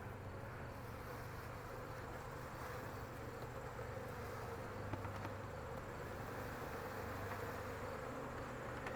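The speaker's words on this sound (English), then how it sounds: "there's a lot of nurse bees on this frame" A dense, continuous buzz of many honey bees close by during a beehive inspection, steady and unbroken with no voices.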